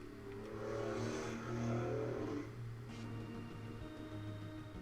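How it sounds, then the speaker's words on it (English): Road traffic passes outside with a car revving its engine, a broad low rumble that swells loudly around the middle and then settles into a steady background hum. "Wow, that was unnecessarily loud. Thank you, traffic."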